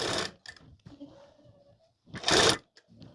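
A sewing machine stitches a blouse sleeve into the armhole in two short close bursts of rapid mechanical whirring, with quiet handling and a speaking voice in the gap between them.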